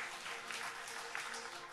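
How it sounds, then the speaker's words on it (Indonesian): A church congregation claps together, a steady dense wash of applause at moderate distance with no pauses throughout. "Berikan tepuk tangan bagi nama Tuhan."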